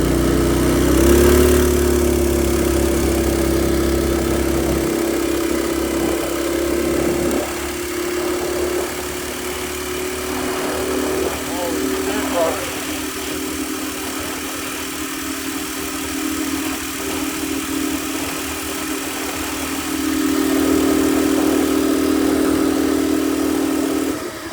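The small engine of a bike bought broken from Tractor Supply runs at a steady idle, close and continuous, with a slight rise and dip in pitch and no talking.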